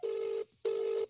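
Australian telephone dial tone heard as two steady, loud tonal bursts of roughly 0.4 s each separated by a short gap, with no talk.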